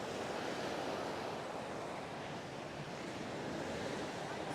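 Ocean surf rolls continuously onto Sunny Isles Beach in Florida on a March day, a steady, broad wash of breaking waves with wind buffeting the microphone and no pauses.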